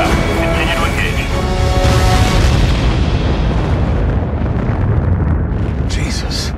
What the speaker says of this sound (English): Another of those explosions.